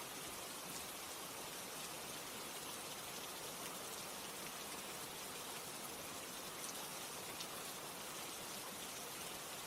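Steady rain falling, a constant even hiss of drops on surfaces that runs unbroken and fairly soft, with no voices.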